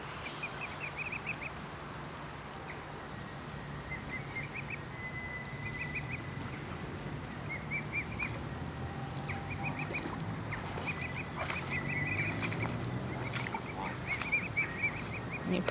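Geese calling with duck-like honks and cackles near a pair of nesting swans, repeated calls scattered over steady outdoor water ambience, moderately distant and mid-level in volume.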